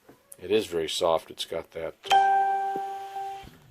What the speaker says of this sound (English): sorry for the phone beeping